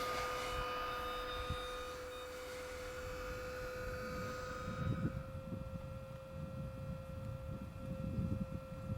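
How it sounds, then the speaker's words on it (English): An electric pump inflating a Blackfin Model XL iSUP paddle board to 15 PSI drones steadily with a constant tonal whine, growing a rougher, louder rumble partway through. "you hit power, and you let the pump do all the hard work for you"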